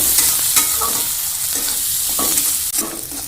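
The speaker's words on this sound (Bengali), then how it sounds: "বন্ধুরা আমাদের মশলাগুলোকে মোটামুটি কষানো হয়ে গেছে।" Spices with garlic, onion, salt and turmeric stir-fried in a pan, a bright steady sizzle broken by rhythmic spatula scrapes and stirring, near and alone without speech.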